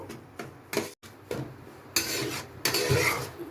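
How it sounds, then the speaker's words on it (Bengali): Semolina stirred and roasted in ghee in a wok, a spoon scraping and rasping against the metal in repeated strokes with short pauses, close and moderately loud, with no voices. "সুজিটাকে একটু হালকা করে ভেজে নেব।"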